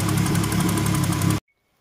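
An engine runs while warming up, a loud steady idle with a rhythmic knocking pulse that cuts off abruptly, leaving near silence.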